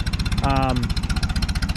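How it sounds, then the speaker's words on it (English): A Farmall A tractor engine runs at low idle, a loud close, steady chugging pulse with even rhythm throughout, briefly joined by a short spoken sound near the start. "It's running really nice here at low idle, still with pretty good oil pressure for this low of idle"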